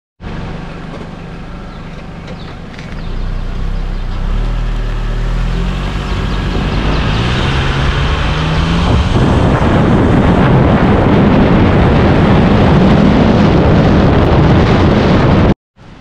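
A Honda Accord on a test drive after lower ball joint and drive axle replacement, engine rising from idle through revving acceleration into loud roaring road noise with heavy wind buffeting.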